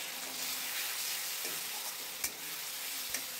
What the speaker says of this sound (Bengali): ভালো করে একটু নেড়ে নিতে হবে।